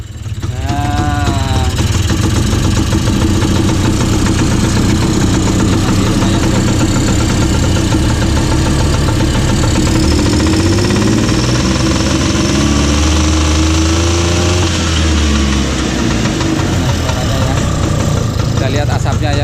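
Two-stroke Bajaj three-wheeler, orange and under restoration, starts up and settles into a loud, close, rattling idle with uneven throbbing; voices talk over it.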